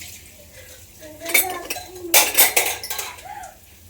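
Iron lamp stands being washed, with metallic clinks, knocks and scraping in bursts amid faint splashing water, moderately close, with a few soft background sounds between the clatters.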